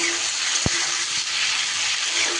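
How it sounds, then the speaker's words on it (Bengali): Salted winter vegetables and onion stalks fry in a pan with a steady broadband sizzle, broken by one sharp knock of the spatula and a fainter tap as they are stirred; no voices. "সবজিগুলো সুন্দর করে একটু নাড়াচাড়া করে নেব"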